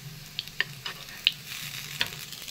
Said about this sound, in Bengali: আর এইভাবে আমি সমস্তগুলো ভেজে নেব।